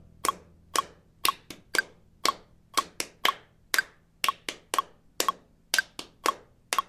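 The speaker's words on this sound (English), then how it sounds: "So here we go with exercise 1, clapping." One person claps an eighth-note rhythm exercise, crisp close hand claps in an even, repeating pattern with brief pauses between groups, alone in a quiet room.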